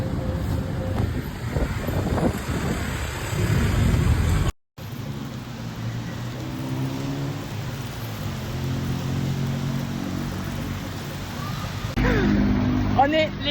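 Steady heavy rain and gusting wind rush outdoors during a storm in Thailand, a dense continuous roar with a short dropout partway through and no talk.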